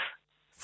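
A single short sneeze at the end of a brief pause, close and fairly sharp, following a clipped fragment of speech on a radio phone-in.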